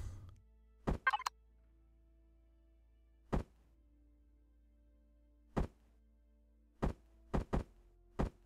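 Blocks snap into place on a capital ship under construction in Empyrion Galactic Survival, a series of short, crisp thunks spaced irregularly over a quiet low hum.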